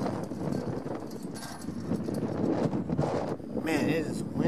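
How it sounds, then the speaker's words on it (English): Strong, gusty wind buffets the microphone on a hiking trail at North Franconia Notch, New Hampshire, a steady roar with brief dips, with someone talking faintly underneath. "Man, it is windy here."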